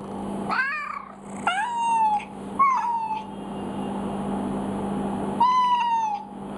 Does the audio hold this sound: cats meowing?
yes